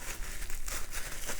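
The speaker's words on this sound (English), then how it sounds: "when you're done, wrap it up in saran wrap" Plastic wrap crinkles and crumples steadily for about a second and a half as it is wound around a leftover piece of ginger in a kitchen, a close, busy rustle with no talking.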